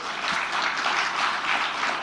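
A crowd claps at a book launch event where a speech is being given: a dense, even burst of applause from many people in the hall, sustained for about two seconds with no speech on top.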